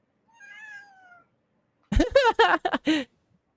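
A cat gives a thin, drawn-out meow, then after a short pause lets out a louder, rougher string of several meows, close and clear.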